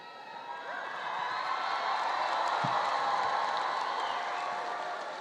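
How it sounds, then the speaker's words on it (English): A crowd at the Belleville High School commencement applauds and cheers, the clapping swelling after a second into a sustained roar with scattered whoops, then easing slightly near the end. "We are going to be cheering all night."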